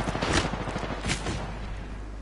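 Rapid bursts of gunfire in Apex Legends, dense crackling shots in two clustered volleys around a distant battle, loud and continuous with no voices over it.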